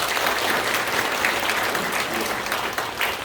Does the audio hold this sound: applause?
yes